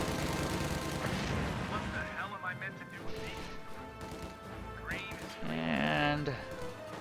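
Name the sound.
mortar fire in a video game (Company of Heroes)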